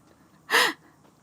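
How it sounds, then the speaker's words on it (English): A wounded wyvern in The Witcher 3: Wild Hunt lets out a single short, loud, breathy gasp that stands out from an otherwise quiet background. "Sounded like panting of a wounded wyvern."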